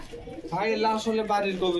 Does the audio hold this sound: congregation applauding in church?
no